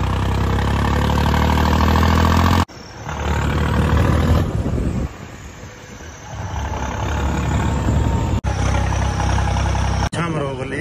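A Farmtrac tractor engine running loudly and steadily close by, broken by a few abrupt cuts and a quieter stretch in the middle.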